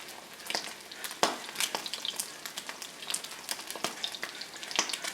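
Polenta with melted mascarpone sizzles and frys in a pan on medium heat, a steady crackling hiss with scattered sharp pops and spits, close and fairly quiet, no voices.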